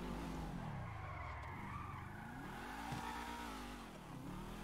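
Sports car skidding in GTA V, with a continuous tire squeal that sweeps up and down in pitch over a steady engine drone, loud and close throughout with no talk.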